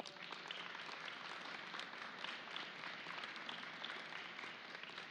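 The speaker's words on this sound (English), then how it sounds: "So let's give them a round of applause." Faint audience applause at a high school signing day ceremony, a steady dense patter of many hands clapping from across the room.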